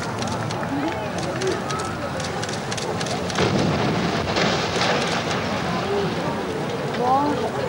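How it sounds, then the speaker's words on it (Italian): A demolished industrial chimney collapses in a 1985 demolition, a broad rumbling roar that swells midway and lingers like distant thunder, with people talking over it. "è caduta la ciminiera centrale."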